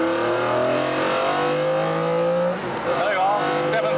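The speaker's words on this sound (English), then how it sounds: "I'll never get used to, I'm sure, banging the throttle open." A McLaren F1 road car engine revving hard under full throttle from inside the cabin, a loud sustained rising howl climbing through the revs, briefly dipping at a gear change before pulling again.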